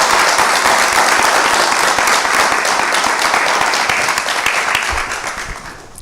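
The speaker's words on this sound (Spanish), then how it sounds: "le damos la bienvenida con un muy fuerte aplauso al señor Guillermo Moreno." Audience at a real estate professional association event applauds to welcome a speaker, a loud sustained burst of many people clapping that tapers off near the end.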